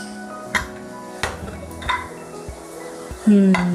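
Pressure cooker of masoor rice being opened in a home kitchen, with several sharp metallic clinks and clatters of pot and lid spread over a few seconds, then a brief louder scrape near the end.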